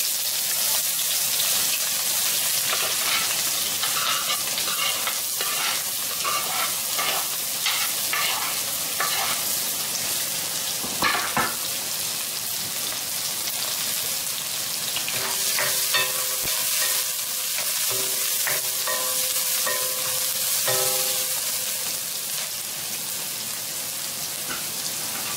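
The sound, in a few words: chopped onion frying in hot oil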